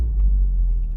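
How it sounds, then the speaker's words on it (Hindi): A Maruti Suzuki Ertiga's engine, just started on CNG, idles with a loud, steady low rumble up close for a moment, with no other sounds. "कार हमारी हो गई स्टार्ट"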